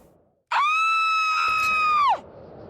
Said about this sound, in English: And she stands there and screams.